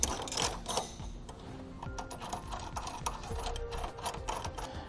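Bolts on a BAKFlip MX4 hard tonneau cover are hand tightened on a 2013 Ram 1500, giving a busy run of close metallic clicks, ticks and small rattles at an uneven pace with no talking.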